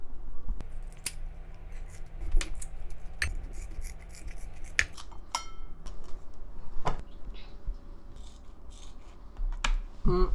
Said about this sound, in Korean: 그냥 가위로 그렇게 잘라줘